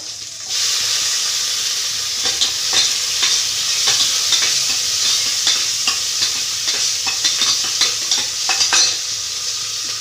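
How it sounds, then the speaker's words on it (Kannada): Raw cowpea beans fry in a little oil, giving a steady sizzle with frequent light scrapes and stirs against the pan throughout, close and continuous. "ನಾನು ಸ್ವಲ್ಪ ಎಣ್ಣೆಗಾಗಿ ಹಾಕಿ ಹುರ್ಕೊಯ್ತಾ ಇರೋದು"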